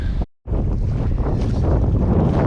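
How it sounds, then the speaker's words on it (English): Strong onshore wind roars across the microphone while kayaking on open water, a loud continuous buffeting with a brief dropout near the start. "The wind's coming from onshore."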